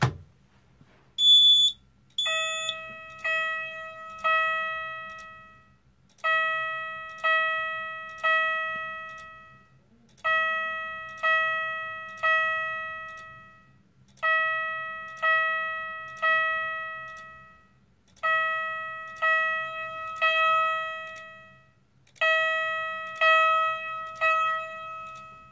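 Fire alarm chime strobe sounding during a floor system test: a repeating pattern of bright electronic chime tones in groups of three, each ringing and decaying, cycling steadily with short gaps, moderately loud over a faint low hum.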